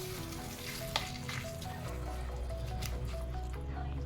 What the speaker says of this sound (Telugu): పోపు వేసి కలిపిస్తున్నాను.